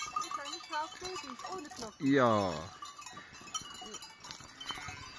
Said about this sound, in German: Hier gibt's nicht nur Kühe mit Glocken, sondern gibt's auch Schafe mit Glocken.